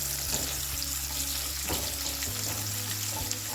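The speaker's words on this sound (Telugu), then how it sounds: "ఇలా ఫ్రై అయిన తర్వాత ఆనియన్ కూడా వేసుకొని ఫ్రై చేసుకోవాలి." Onions frying in oil for an Andhra-style bottle gourd curd pachadi, a steady broadband sizzle with low hum underneath and a few soft clinks, continuous and close throughout with no talking.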